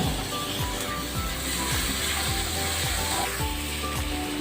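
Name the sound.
ginger garlic and tomatoes sautéing in a pan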